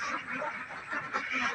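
Ducks on a Filipino duck farm quack in a busy, overlapping chorus at close range, with steady calls running throughout and no talking.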